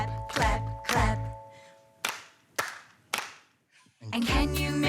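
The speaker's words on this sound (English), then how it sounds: "can you make your hands go clap, clap, clap?" Hand claps in a children's music show: a few sharp, separate claps, roughly three in a row, between stretches of sung melody.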